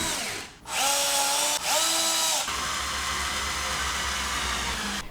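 Power drill driving screws into wood pieces for a homemade pegboard, a loud close whine that starts, briefly stops, restarts with a rising pitch, then settles into a steadier lower hum.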